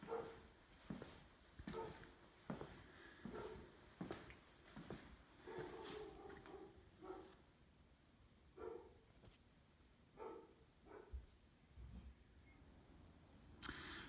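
A puppy barks in a garage, a series of faint, short yips and barks at irregular intervals, heard distantly in the background against a quiet room.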